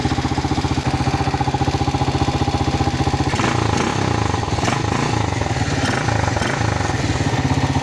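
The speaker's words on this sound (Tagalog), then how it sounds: "Ayan mga kailong, buhay na ulit ang motor." A restored Racal Pantra motorcycle engine runs steadily at close range, a rapid even idle putter that shifts to a rougher, busier beat partway through, with no talking.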